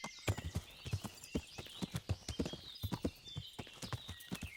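A horse's hooves beat out a brisk, even clip-clop at close range during riding in Kingdom Come: Deliverance, strong and continuous throughout.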